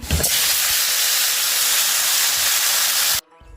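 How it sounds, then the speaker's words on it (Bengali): Dried red chillies hit hot oil with a loud, dense, hissing sizzle that holds steady for about three seconds, then cuts off sharply to a quiet background. "আজ একটু শুকনো লঙ্কা ফোড়ন দিয়ে দিলাম"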